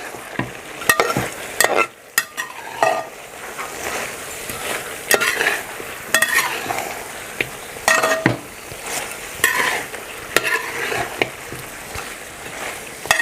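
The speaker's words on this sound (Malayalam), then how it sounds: "ഈ നന്നായിട്ട് ഇളക്കി കൊടുക്കുക." Biryani masala fries in a pot under a continuous loud sizzle, while a spoon stirs it with frequent scrapes and sharp clinks against the metal. No one speaks.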